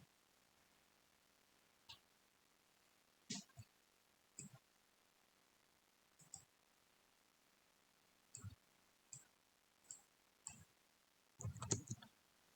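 Sparse, crisp computer mouse clicks land one or two at a time with pauses between, ending in a quicker flurry, in a quiet room while a 3D CAD model is drawn.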